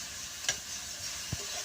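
Shredded cabbage sizzles in ghee in a pan with a soft steady hiss, and two brief stirring scrapes land about a second apart, close and without talk.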